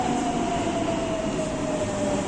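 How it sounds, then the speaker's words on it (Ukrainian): A driverless metro train in Rome rumbles loudly and steadily nearby, a sustained tonal whine gliding slowly downward as it slows into the station. "Все, наше метро приїхало"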